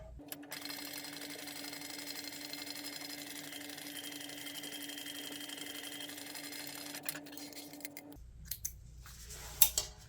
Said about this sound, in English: we want to stitch that down at 3/8 of an inch seam allowance